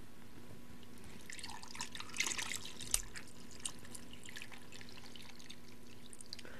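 Lemon vodka and iced tea poured into a glass, a quiet trickling pour with a few soft drips and clinks, close by and without talk.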